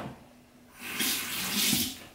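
Warm water runs from a bathroom tap to wet a facial cleansing brush, a steady splashing rush that swells after a quiet start and keeps going to the end.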